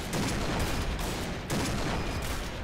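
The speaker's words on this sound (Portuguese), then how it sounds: "Peguei o primeiro tiro aqui. Segundo tiro aqui" Gunfire from a Barrett rifle with fire effects in the shooter game Point Blank, with dense, loud blasts and two stronger shot peaks about a second and a half apart, no voices.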